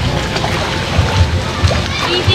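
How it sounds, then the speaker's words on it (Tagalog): Water splashes and churns at a forest resort waterfall, a steady loud rushing with scattered low thumps, while people talk over it. "Dito tayo dito sa pangatlong waterfall."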